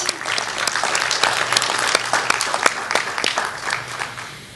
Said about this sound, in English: so a good round of applause for that.